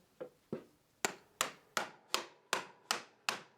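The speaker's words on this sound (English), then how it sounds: "I'll just use the 5-minute mallet one last time to tap the handle into place on its successor." A wooden mallet knocks a handle into a new mallet head, nine sharp woody taps in an even rhythm, faint at first then louder and crisper, close by with no talking.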